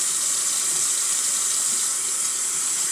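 Cold tap water runs steadily from a faucet into a sink while sausages are rinsed, a constant near hiss and splash across the whole stretch with no talking.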